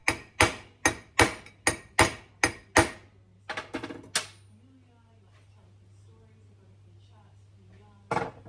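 Sharp metallic hammer blows drive a wheel bearing into a motorcycle rear wheel, about eight evenly spaced close strikes followed by a few lighter taps, then someone speaks before one final hit.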